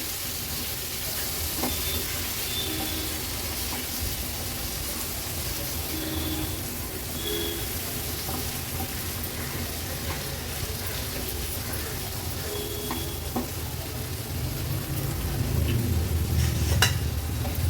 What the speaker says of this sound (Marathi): आता ह्या कोलब्या व्यवस्थित आपल्याला ह्या मसाल्यामध्ये मिक्स करून घ्यायचे